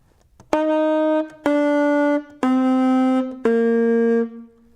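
Four separate saxophone notes, each beginning with a sharp, clicky attack from suction tonguing, held for about a second, stepping slightly lower each time, with no voice.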